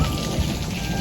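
Heavy rain pours steadily during a thunderstorm in Qatar, a dense continuous hiss of drops hitting surfaces, close and loud with no pauses across the short stretch.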